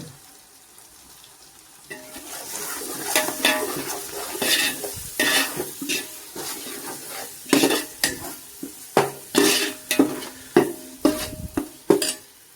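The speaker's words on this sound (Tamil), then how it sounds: "நல்லா கிரேவியாக வரணும், அது வரைக்கும் நல்லா வதக்குவோம்." Masala paste for Dindigul-style mutton sukka biryani sautéing in a pan, with a steady sizzle and repeated sharp stirring scrapes of a spoon against the pan growing louder, heard up close without talk.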